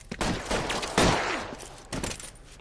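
Gunfire crackles through an L.A. Noire shootout, with several bursts of shots at the start, around the one-second mark and again near the end, each one loud and sharp.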